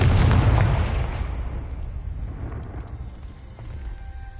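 An explosive Confringo spell goes off in the Hogwarts Legacy video game: a single loud, deep blast that bursts at once, then rumbles and fades slowly over several seconds.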